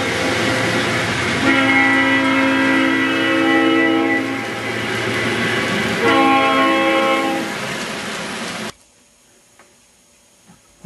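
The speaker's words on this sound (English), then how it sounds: "I ran the trains a little bit faster than normal there" A small train rumbles along the track with repeated horn-like tones layered over the running noise, then it cuts out abruptly to near silence.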